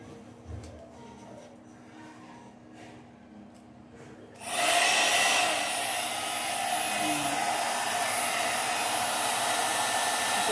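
A large hair dryer and styler switches on partway through and then blows a loud, steady, close roar over wet hair, after a quieter stretch with light handling noise.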